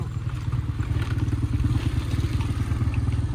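A motorcycle engine idles with a steady low pulsing throb on a road while the bike is turned around, close and continuous, with light clatter and scraping beneath it.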